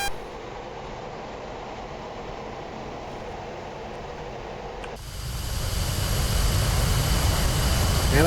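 F-15E twin jet engines running up to 80% in the DCS World flight simulator: a steady, close turbine roar that suddenly grows louder and brighter about halfway through, then holds at the higher level with no talk.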